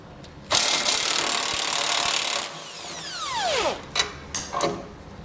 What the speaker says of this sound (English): So I'll hold the head of it with a wrench. And then on this side, we're gonna have a nut. I'll use an 18mm socket.